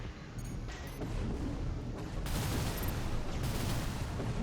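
Missile barrage and gunfire in the mech combat game Armored Core 6 during a PvP match, a dense rolling fusillade of blasts and booms with sharper bursts, continuous and loud throughout.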